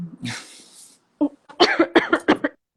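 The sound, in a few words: cough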